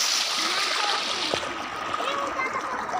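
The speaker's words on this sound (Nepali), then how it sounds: "यहाँ पहिलाको भन्दा ठुलो खोला आएको" Water splashes and burbles along steadily in a flowing stream, with a voice and other faint voices mixed in over the running water.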